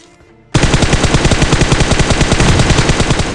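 M249 machine gun fire in BGMI, a loud, rapid, evenly paced burst that kicks in abruptly after a brief quieter moment and continues without a break to the end.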